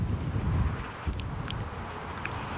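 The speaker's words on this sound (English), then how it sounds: "one of those hurricane strength gusts comes along" Hurricane-strength wind gusts sweep across an outdoor softball field during a West Rutland vs Arlington game, a steady loud rushing roar with heavy low buffeting on the microphone, with no voices over it.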